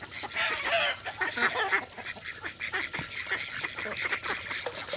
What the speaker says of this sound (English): I know you're quacking loud.